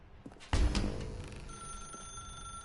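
A telephone rings in the video game The Stanley Parable 2, starting with a sharp thump and then a faint, thin ringing tone that lingers in the background.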